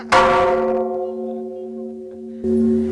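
A large, ancient bronze temple bell in Uthai Thani is struck once with a loud, close clang, then hums for a long time in a steady, slowly fading ring before another noisy sound begins near the end.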